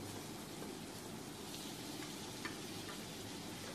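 Tomatoes added to fried onions for gravy in a pan, heard as a faint, steady sizzle and crackle of hot oil with a few light ticks, no talking.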